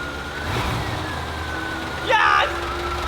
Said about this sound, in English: Little bit of a rev.